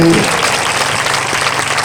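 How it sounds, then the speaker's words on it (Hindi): Church congregation clapping hands to thank God, a dense, loud, continuous wash of many hands clapping together close by, sustained without pause for the whole moment. "ताली बजाकर प्रभु को धन्यवाद दे"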